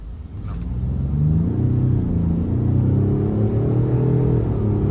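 A 2023 Ford F-150 Lariat PowerBoost hybrid pickup accelerates hard in sport mode, its engine rising in a loud, close, rumbling surge heard from inside the cab with no talking.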